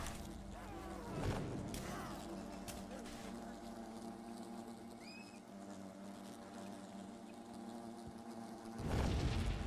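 Insect-like buzzing of wasps at the Greatwood entrance in Fable Anniversary, a steady low drone running through the whole stretch with game ambience and brief louder bursts at the start and end.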